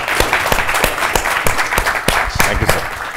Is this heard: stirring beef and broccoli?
no